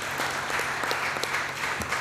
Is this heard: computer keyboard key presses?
no